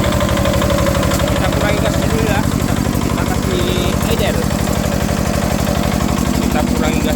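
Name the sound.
tractor engine idling, tractor modified into water pump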